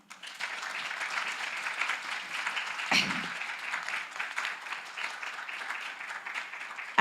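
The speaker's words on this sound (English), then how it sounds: "I want to ask you to give us a clap of hands offering to our" Sustained audience applause for award champions at an African evidence leadership session, a steady dense clapping wash lasting throughout with a brief louder thump partway and a sharp burst at the end.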